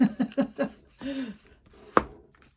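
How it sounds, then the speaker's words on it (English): Cardboard box for a card deck opened and closed, giving a few soft rhythmic taps and rubbing sounds followed by one sharp snap near the end, close up with no talking. "It's like I hear a box opening and closing, and I'm like, oh, that feels good."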